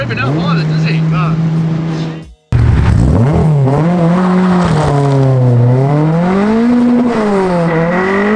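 Ex-racing 240bhp Mk1 VW Golf engine on twin 45 carburettors revs hard and loud nearby, sharply cutting out then climbing again through rising and falling rev sweeps, with occasional voices underneath.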